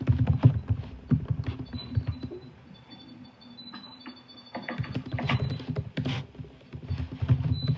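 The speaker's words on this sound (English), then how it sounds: "Holy crap, Krista, you typing real fast." Fast typing on a computer keyboard, dense bursts of close, crisp key clicks with a brief quieter stretch midway before the rapid clatter resumes.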